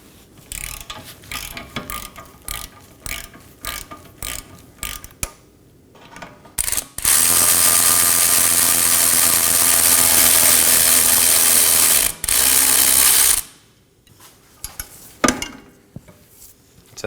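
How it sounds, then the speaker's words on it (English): Ratchet and wrench work on a 17mm bolt and nut on a 2018-2024 Toyota Camry rear trailing arm: scattered clicks and knocks, then a loud, steady mechanical whirr for several seconds with a brief break, followed by more clicks, with no talk. "So place your ratchet on the bolt side and your wrench on the nut side"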